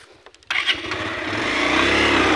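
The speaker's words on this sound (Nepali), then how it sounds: "तानेन नि त बाइक यार" A motorcycle starts up on a narrow pedestrian footpath, with a few clicks, then an abrupt loud catch as the engine fires, settling into a close, steady revving drone.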